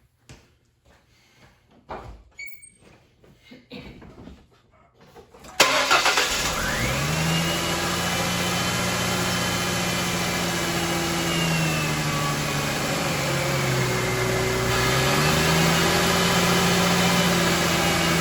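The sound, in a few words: Ford Mustang car engine starting and running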